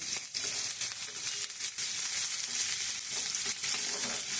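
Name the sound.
dried red chilies frying in oil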